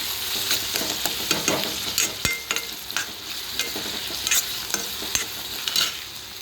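Cabbage sautéed with tomato in a pan gives a close, steady frying hiss, with frequent scraping and tapping strokes of the spatula stirring it through, and no voices.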